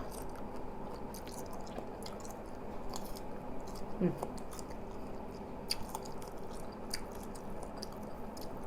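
Someone bites into and chews Indonesian salak snake fruit, its crisp flesh sweet and chilled. The close, soft crunching and squishing goes on steadily, with one sharper bite partway through, and nobody talks.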